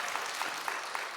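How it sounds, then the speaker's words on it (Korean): Audience clapping at a church spring revival meeting, a brief dense burst of applause from a crowd, steady and fairly loud throughout. "박수 칠 줄 알고."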